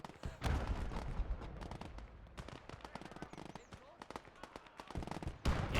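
Heavy Sturm Grenadier squad opening fire in the WWII strategy game Gates of Hell, a dense clatter of rapid gunfire and sharp bursts with bangs layered over one another, loud and continuous with possible voices mixed in.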